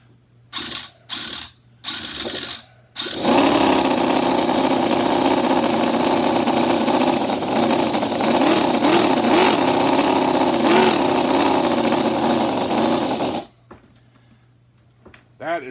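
A Toyan FS-V800G model engine gets a few short cranks, then catches and runs with a steady, loud, buzzing mechanical drone for about ten seconds before it cuts off.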